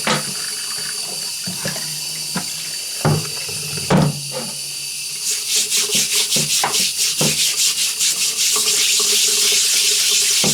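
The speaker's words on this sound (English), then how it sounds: "that's nice warm water I'm running on it" Warm tap water runs over a rusty lapping plate in a basement workshop while it is scrubbed. A steady hiss of flowing water is broken by rubbing strokes and a few knocks, which grow into rapid rhythmic scrubbing.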